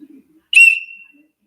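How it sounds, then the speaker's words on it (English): A short, sharp blast on a small survival whistle from a zombie survival kit. It is a single piercing, bright tone that starts suddenly and trails off, loud and close in near silence. "A whistle,"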